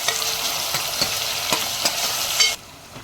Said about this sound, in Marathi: याच्यामध्ये आपण 2 बारीक चिरलेले टोमॅटो ठेवले आहेत. टोमॅटो मीडियम साईजचे होते. परतून घेऊया व्यवस्थित.